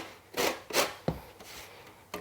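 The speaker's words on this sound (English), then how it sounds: "Just keep twirling it round on the fine side of your box grater." Lemon rind being zested on the fine side of a box grater, a few short raspy rubbing strokes, close and fairly quiet, with no speech.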